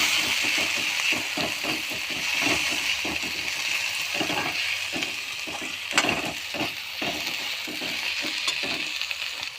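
A soft, steady sizzle of tomatoes frying in a wok, with repeated scraping and stirring strokes throughout.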